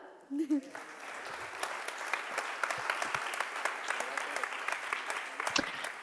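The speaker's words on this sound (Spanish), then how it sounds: "Aplaudiu-la." Audience applause at a public conference session, a dense, steady wash of clapping from many hands that swells quickly and carries on for about six seconds without a break.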